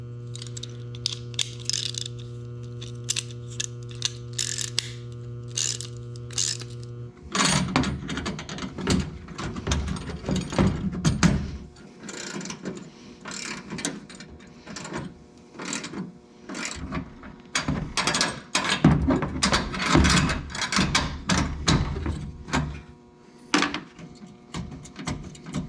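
A hand ratchet with a 13mm socket tightens a nut and bolt on a light-pod bracket of a 3rd gen 4Runner, giving bursts of close, crisp clicking that start after a low steady hum and continue in uneven runs.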